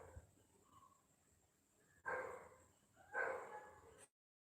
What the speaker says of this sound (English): this dog is just barking and barking